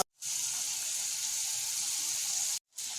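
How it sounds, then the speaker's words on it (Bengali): Potato pieces hiss and sizzle in hot oil in a pan, a steady bright frying roar that runs for about two and a half seconds before breaking off briefly and resuming, with no talking. "গরম তেলে আমরা আলু দিয়ে দিচ্ছি আলুগুলো ভাজা হচ্ছে"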